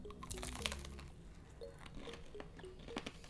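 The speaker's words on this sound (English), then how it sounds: "I'm going to take like a little bite of the pastry." A flaky fried sambusa pastry, served as bread at a restaurant dinner, is bitten into, giving a close crisp crunch followed by soft chewing sounds with no talking.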